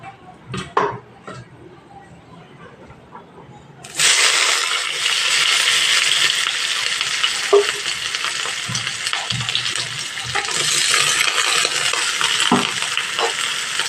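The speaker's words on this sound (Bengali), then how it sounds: "এই তেলের এখানে কুচানো পেঁয়াজটা আমি দিয়ে দেবো" Chopped onion dropped into hot oil left from frying potatoes for Lote fish jhuro, bursting into a loud, steady sizzle after a few quiet clinks, with the crackle swelling again as the pieces are stirred.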